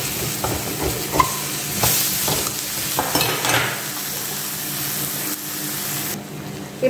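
Tomatoes fry in a pan for prawn thokku, sizzling steadily while a spoon stirs and scrapes through them in repeated bursts, close and fairly loud.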